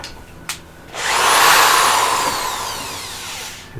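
Power drill with a paddle bit boring into wood for a Christmas village display, a loud close whirring grind that rises sharply, peaks, then slowly tapers off as the bit cuts through.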